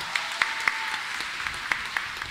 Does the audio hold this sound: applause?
yes